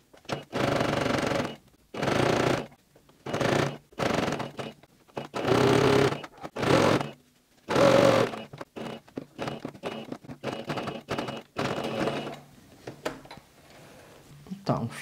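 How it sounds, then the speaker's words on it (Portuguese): A sewing machine stitching close around the edge of a handmade wallet, running in a series of short mechanical bursts separated by pauses, close up, with someone talking between the runs. "Passar uma costurinha rente aqui em toda a volta"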